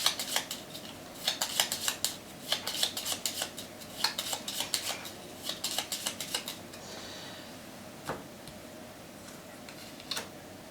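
Gloomhaven board game cards being shuffled at a table, a quiet run of crisp riffling clicks and flutters with short pauses between bursts, no talking.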